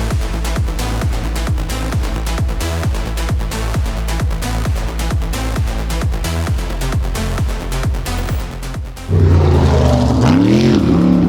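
An Ultra4 buggy on a dirt drag racing course, its engine pulsing in a fast, steady rhythm up close, then rising into a louder roar near the end.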